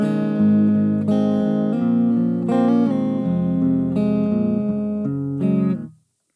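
Acoustic guitar tone produced through a Mahogany Dreadnought impulse response in the jAmp app on iOS, with strummed chords ringing in a steady rhythm for about six seconds before stopping abruptly, with no voices.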